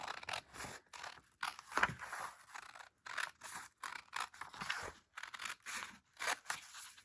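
Scissors snipping through paper to shape pennants, a run of short, separate cuts with brief pauses between them, close and fairly quiet, with no talking.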